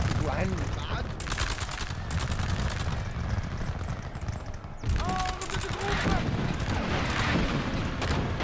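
A Napoleonic battle in a video game, set in Egypt, rattles with dense, continuous volleys of musket fire and deep artillery booms that roll on under someone talking. A heavier burst of firing swells near the middle.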